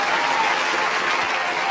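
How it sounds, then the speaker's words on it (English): Steady applause from an audience at a live talk event, clapping dense and continuous for under two seconds with no pauses. "So let's give a quick round of applause to all our beloved sponsors."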